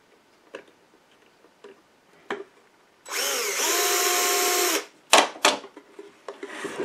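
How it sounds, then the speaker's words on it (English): A power drill whirs steadily for about two seconds while a wooden bluebird house is being built, with sharp taps and clicks of handling before and after it. "I need to use the drill."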